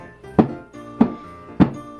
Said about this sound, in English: I like to bang it against a flat surface a little bit.